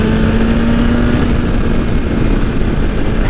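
A 2020 BMW S1000RR liter-bike engine with a flashed ECU cruises in sixth gear at about 6,000 RPM, giving a loud, steady, continuous drone with no talk.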